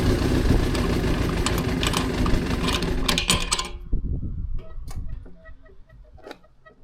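A Suzuki GSX-R 400 motorcycle engine runs loud and rough while low on fuel, then cuts out abruptly, leaving a few faint sputters and clicks.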